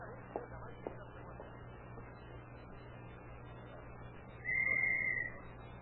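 A single steady whistle blast, held for about a second near the end of a radio drama scene, sounding clearly above a hissy, humming background.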